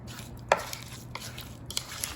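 A spoon scrapes and taps against a bowl while fruit pie filling is stirred, one sharp clink followed by several lighter, scattered knocks at close range.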